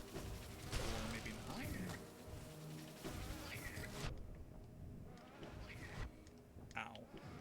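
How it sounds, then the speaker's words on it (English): Bees buzzing in the video game Hollow Knight: a dense, continuous insect drone under game noise, with scattered sharp hits and swooshing effects through the stretch. "there's so many bees"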